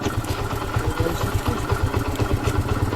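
A Bajaj Pulsar motorcycle, a red and black secondhand bike, idles close by with a steady, throbbing low putter and some light mechanical clatter, running alone without speech.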